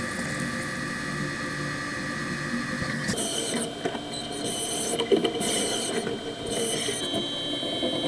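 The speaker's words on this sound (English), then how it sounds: "The 3/16 reamer coming into there to ream that hole out." A 3/16 reamer working a hole in a machined camera enclosure spacer, a steady grinding machine whir with scraping and hiss from the cutting, moderately loud and continuous, rising in texture partway through.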